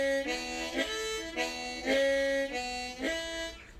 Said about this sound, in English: So I'm pulling in the one draw and blowing out the two.